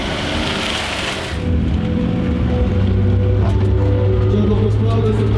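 Steady rain hissing and pattering during a rally stage, mixed with a car engine droning underneath, loud and continuous.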